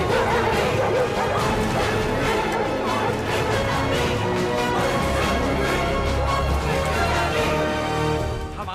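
Several dogs bark, yip and whimper together in a dense continuous commotion, loud and close, with some crashing noise mixed in.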